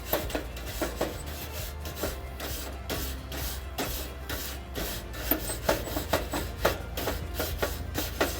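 A brass-bristle brush scrubbing a cast iron grill grate, steady rhythmic rasping strokes repeated roughly twice a second, close and fairly quiet, with no talking.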